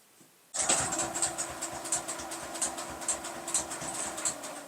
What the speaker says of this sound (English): I'm going to sew it at 1/4 inch